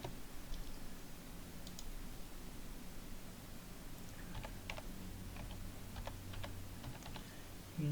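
Quiet typing on a computer keyboard while setting up a C++ static library, with scattered bursts of soft key clicks over a steady background hiss.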